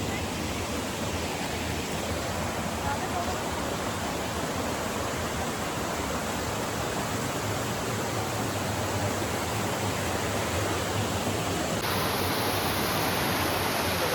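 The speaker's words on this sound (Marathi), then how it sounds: "पुन्हा एक धबधबा दिसला आपल्याला." A waterfall in a hilly monsoon landscape with clouds roars steadily, a dense, continuous rush of falling water close by that fills the whole clip without a break.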